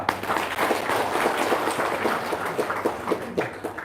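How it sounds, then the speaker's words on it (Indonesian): Audience applause at an Indonesian talk about paying off debt: a steady, fairly loud wash of many hands clapping, dense and continuous for a few seconds with no speech over it. "Tepuk tangan dong."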